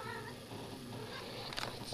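A pet cat meows indoors, a short clear call rising near the end of a steady background hiss, with no one talking over it.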